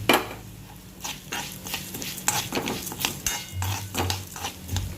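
A spoon stirs sesame seeds roasting in a pan while drumstick leaves powder is being made, giving repeated scraping and clinking strokes over a light sizzle. The sounds are close and have no talk over them.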